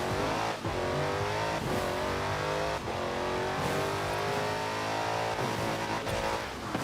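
A Dodge Dart's engine roars loud and continuous, revving and surging as the car accelerates hard, with no voices over it.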